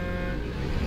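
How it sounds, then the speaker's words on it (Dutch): Truck horn honking inside the Euro Truck Simulator game, a steady, continuous blare held for under a second over dense road and engine noise. "Hou je bek, joh, met je toeter."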